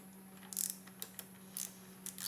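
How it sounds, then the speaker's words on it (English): A hand ratchet tightens spark plugs on a Honda Acura V6 engine, giving a few brief quiet clicking bursts at irregular intervals over a faint steady background hum, with no speech. "So we're just going to tighten up the spark plugs now."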